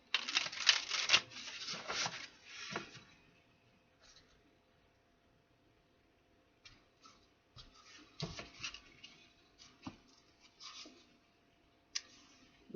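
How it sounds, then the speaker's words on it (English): Bursts of riffling and ruffling as a deck of cards is shuffled, a long flurry at the start and then shorter bursts after a pause, close and fairly quiet. "One more shuffle."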